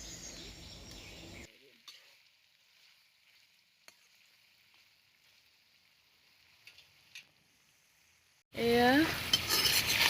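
Pork with potatoes and seeded tomatoes frying in a pan, stirred with a utensil; quiet scraping and faint sizzle at first, then a loud burst of sizzling near the end, with brief talk early on.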